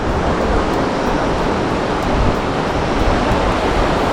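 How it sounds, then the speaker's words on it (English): The river at Pahalgam, Kashmir rushes in a dense, continuous roar of flowing water, loud and steady throughout with no pauses. "Look at the river. It looks so amazing."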